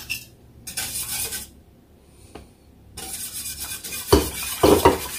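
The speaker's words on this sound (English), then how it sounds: "you just want to whisk your flour and get all the lumps out of it" A whisk stirs flour in a saucepan heating on medium with pineapple juice, giving close scraping and clinking of metal against the pan in short bursts separated by a brief quiet gap.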